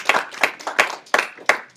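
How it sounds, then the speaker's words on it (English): Audience clapping at a youth church service for the helpers, a round of brief applause bursts with sharp rhythmic peaks, moderately loud and close, with no talking. "Everybody give them a round of applause for being such a great help"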